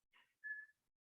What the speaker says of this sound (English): And we hear the hawk calling here